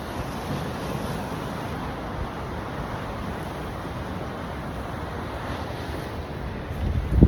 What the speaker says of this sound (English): I'm not even sure if you can hear me because the wind is so turbulent